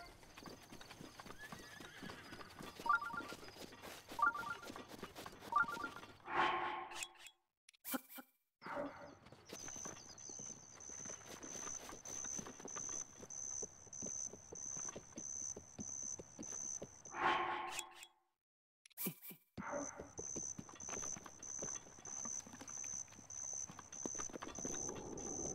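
Horse in the video game Legend of Zelda Breath of the Wild, with repeated hoof clip-clops and several neighs and whinnies over a soft game soundtrack, two brief silent gaps along the way.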